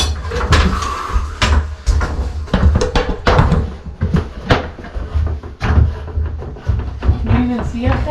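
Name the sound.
doors being opened and closed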